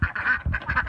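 A white duck quacks up close, giving three quick, fairly loud quacks in a steady rhythm.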